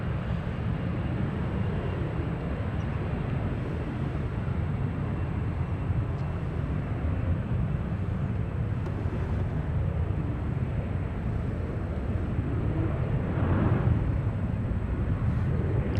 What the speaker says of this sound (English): Little E-175 taking off, heading out to Burbank.